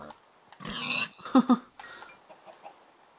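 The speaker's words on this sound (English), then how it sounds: "Chicken." A chicken in the Minecraft video game clucks a few short times, a brief run of clipped game-style calls at moderate volume with no talking.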